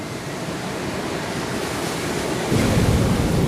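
Ocean waves break and roll continuously along the open sea, mixed with wind noise on the microphone. The surf swells noticeably louder partway through as a bigger wave crashes.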